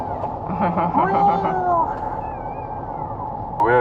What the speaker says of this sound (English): Cat's in the background, crying already